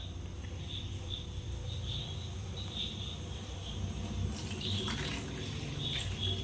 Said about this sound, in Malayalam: ഈ മിക്സിയുടെ ജാറൊന്ന് കഴുകി ആ പാനിലേക്ക് ഒഴിച്ചു കൊടുക്കാം